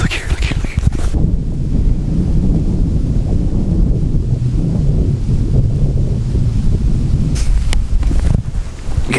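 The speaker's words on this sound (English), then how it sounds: "The wind is blowing literally like 30 miles an hour" Strong wind, gusting around 30 miles an hour on a Kentucky mountainside, roars as a heavy, continuous low rumble buffeting the microphone throughout, with brief crackling bursts near the start and end.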